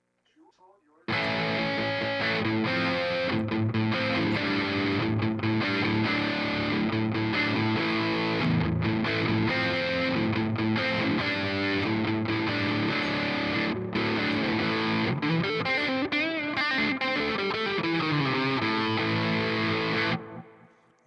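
A Fender Telecaster partscaster electric guitar in its middle pickup position plays a continuous, heavily distorted high-gain riff with dense, sustained chords.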